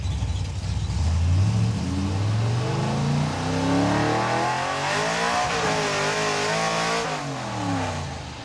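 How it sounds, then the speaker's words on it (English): A 1956 Chevy field car revs hard with its tires spinning, the engine note climbing in rising sweeps, holding a loud steady roar, then surging again toward the end, close and continuous with no talk. "I wanted to see if I can bang shift it, but the problem is it's just tire spin"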